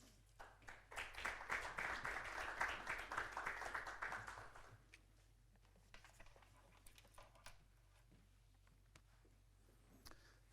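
An audience applauds a pastor coming forward at a Christian staff worship service, a dense burst of clapping for about five seconds that then thins to a few scattered claps and quiet room noise.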